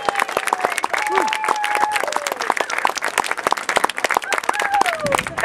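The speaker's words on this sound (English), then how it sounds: "I think we owe her a great round of applause." Crowd applause with scattered sharp claps at the opening ceremony of a bonsai pavilion at a safari park, steady throughout, with voices and whistles heard underneath.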